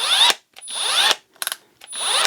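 A Milwaukee M12 Fuel cordless drill at clutch setting 8 spins up in three short bursts, each rising in pitch and cut off abruptly, with a quick ratcheting clatter between the second and third.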